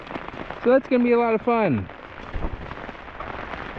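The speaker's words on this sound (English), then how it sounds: "So this is practically freezing rain, just without the freezing part." Cold rain in the high 30s °F patters steadily on a spring woodland hammock camp, a soft continuous hiss that carries on under a man's brief speech and then alone.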